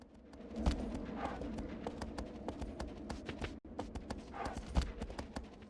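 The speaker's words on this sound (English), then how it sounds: "You ride for these long stretches with almost nothing competing for your attention. It's just you, Agro the horse, and the landscape changing around you" Horse hooves galloping in Shadow of the Colossus, a steady rapid clip-clop of Agro's gait running through the whole stretch under a wide, airy outdoor ambience, loud and close with no voices over it.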